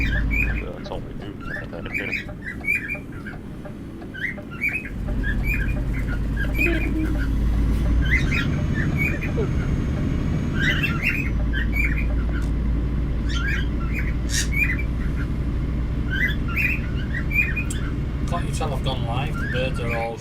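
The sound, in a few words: birds squawking and chirping outside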